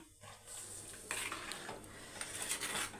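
Scraping and stirring in a pot of almond gum and coconut milk payasam, with a soft sizzle and occasional clinks of a utensil against metal, steady and close.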